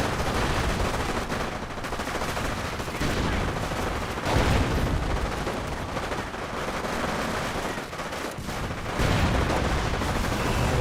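Artillery barrages and machine-gun fire in the Company of Heroes battle game, dense overlapping blasts and rattling bursts layered continuously with swelling thuds throughout, under a faint voice.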